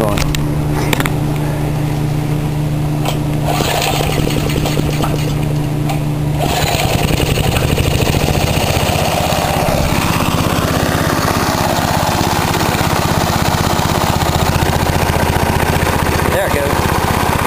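A small pull-start engine driving an alternator runs steadily and loud the whole way, its tone shifting and dropping partway through as the charging load bogs it down, with a voice speaking over it.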